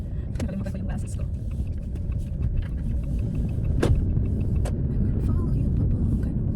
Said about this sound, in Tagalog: Yan ang problema natin sa sasakyan. Maingay.